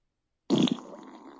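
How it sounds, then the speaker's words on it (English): Alexa smart speaker playing a fart sound effect on voice command: a single wet, sputtering burst starts abruptly after silence and trails off into a soft rumble, close and fairly loud. "That was a creamy one."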